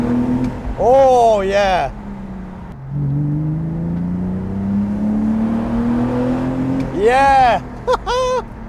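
A BMW E46 330i Touring with a Scorpion exhaust revs hard twice, with a steady engine hum held between the revs and excited voices talking over the sound.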